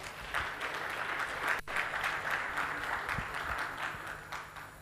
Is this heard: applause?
yes